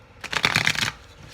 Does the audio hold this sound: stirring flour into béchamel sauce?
no